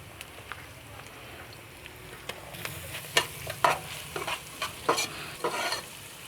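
Onions, ginger and garlic sizzle and fry in a pan while being stirred, a steady close crackle with scraping stir strokes growing busier toward the end.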